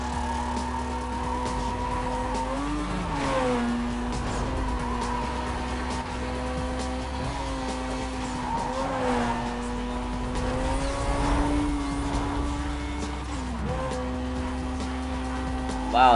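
Race cars in Need for Speed Most Wanted 2005 sustain a steady engine drone with gear shifts rising and dropping, occasional tire squeal and a constant low rumble, loud and continuous with no talking.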